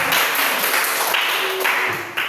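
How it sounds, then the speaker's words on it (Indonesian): Classroom applause: a group of students claps together in a burst of dense, bright clapping that fades slightly toward the end. "Kita tepuk tangan."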